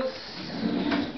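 A kitchen drawer slides along its runners in one smooth, soft movement, close by in a renovated kitchen.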